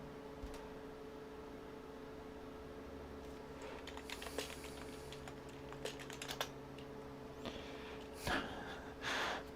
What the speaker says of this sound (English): Let's just type in make.